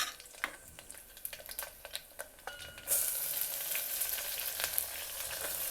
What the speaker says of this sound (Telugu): ఇప్పుడు మనం క్యాబేజీ ముక్క ఇందులో వేసేసుకుందాము